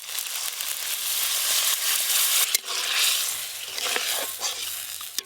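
Onion gravy for a river-fish curry sizzling loudly as water hits the hot pan, a dense hissing roar that rises, dips briefly, then continues with crackling and stirring.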